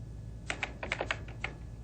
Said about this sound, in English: Notice as I'm typing how the text automatically moves to the right-hand side.